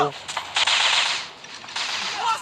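Automatic gunfire from a first-person shooter game with modern graphics, a few short rapid bursts crackling loudly in the foreground, with brief gaps between them.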